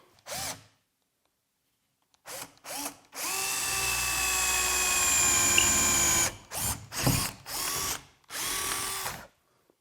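A power drill whirs in short bursts through wood and an aluminum flange, then runs steadily for a few seconds before several more brief spurts, close and loud with no talking.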